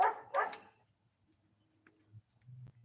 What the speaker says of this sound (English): that dog barks, that dog barks